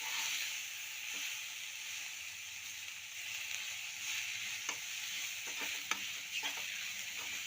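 Cumin powder is mixed into onions and tomatoes frying in oil, a continuous soft hiss and sizzle with quiet scattered scrapes and taps of the stirring spoon, fairly faint and without speech.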